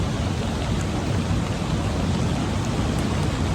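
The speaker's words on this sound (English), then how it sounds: "It's chucking it down with rain." Torrential rain pours down at night in Glen Etive, a dense, loud, unbroken roar of heavy downpour with no voices.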